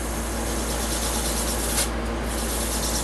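Sandpaper rubbing steadily against a turquoise-inlaid cedar wood platter spinning on a lathe at slow speed, a continuous loud abrasive hiss with a low motor hum underneath.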